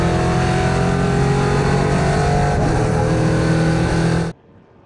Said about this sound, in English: a real insight from Fred Gabion, an onboard lap with his RDV competition car